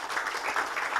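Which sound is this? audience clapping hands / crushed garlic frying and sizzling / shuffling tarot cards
audience clapping hands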